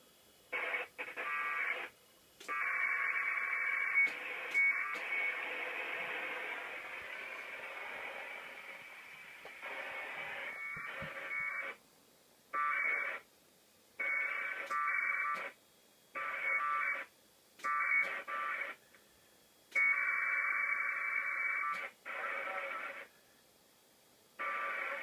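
Bursts of packet radio data tones from a Direwolf soundmodem on a 9.8 station, repeating in short on-off bursts with a few longer stretches. The tones are clear and steady, with gaps of near silence between transmissions and no talk.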